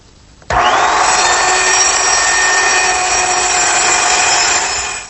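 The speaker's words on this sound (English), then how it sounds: "use a small circular saw, cutting the piece a little bit longer than what I need" A small circular saw cross-cuts long narrow wooden pieces for a storage cupboard and bookcase, starting abruptly with a loud, steady high whine that holds for about four seconds before trailing off.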